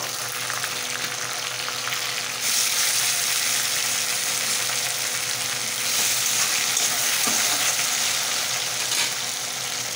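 Onion and tomato fry for mutton biryani, a loud, continuous close sizzle that swells sharply about a third of the way in and stays strong with no talk.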